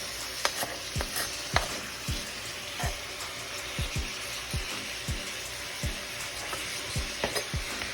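Jamaican oxtail sears in a hot pan with a loud, constant sizzle and spatter, punctuated by a series of sharp utensil knocks and scrapes close by; nobody speaks.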